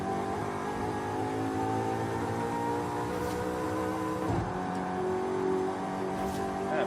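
A Pontiac Trans Am engine in Forza Horizon 5 drones steadily in second gear while climbing a hill, a sustained loud rev with a brief shift in pitch partway through.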